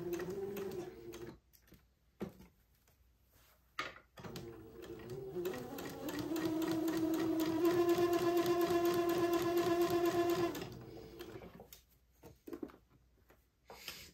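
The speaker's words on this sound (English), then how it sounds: "I'm going to slowly and carefully just sew my entredeau to the bottom of the bodice, taking my pins out as I come to them." A sewing machine stitches entredeau lace onto the lower edge of a baby's heirloom bubble bodice, starting in short bursts and then running in one steady, close, whirring stretch of several seconds before stopping.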